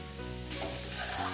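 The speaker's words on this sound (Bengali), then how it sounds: "টমেটো আর নুন দিয়ে আবার আমি এটা ভালো করে একটু কষিয়ে নিচ্ছি।" Chicken with chopped tomatoes and salt frying and being stirred in a pan, a steady close sizzle with scraping stir sounds that grows slightly louder toward the end.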